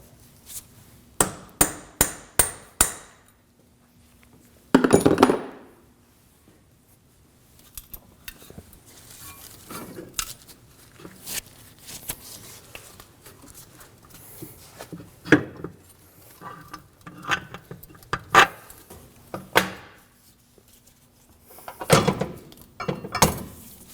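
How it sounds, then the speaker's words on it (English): A rapid burst of sharp metallic hammer blows on a punch freeing a stuck axle stub on a 2016-2022 Honda Pilot, then a heavy clang and scattered irregular strikes, loud and close in a quiet workshop. "you can go ahead and use a punch and a hammer to free it up"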